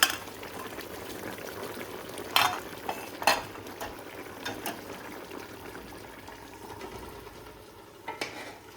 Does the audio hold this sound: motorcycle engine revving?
no